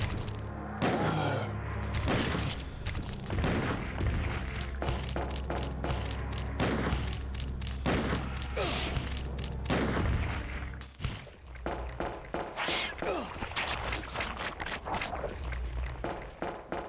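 Gunshots in the original Resident Evil 2, played as Leon, come as a loud rapid series of sharp reports with thuds and footsteps between them. Shots are dense early, then sparser and more irregular later.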